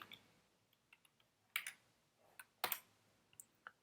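Typing on a computer keyboard while coding a React tutorial, a sparse run of quiet clicks with a few louder key strikes, close and alone without talk.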